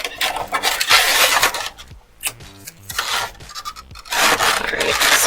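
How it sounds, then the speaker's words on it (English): Scraping, rubbing sounds of tape being pulled and pressed around two bowls, close and fairly loud, in uneven bursts with a short quiet gap midway. "So I'm going to tape the 2 bowls together initially and then start adding my spoons"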